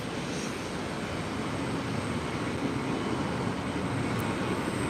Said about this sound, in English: Apologies for the not great view of the takeoff